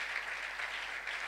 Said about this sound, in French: On acclame encore le Seigneur très bien.